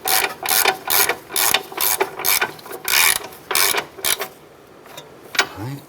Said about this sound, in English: Let's go ahead and snug our upper ball joint nuts. We're using a 17mm socket to this.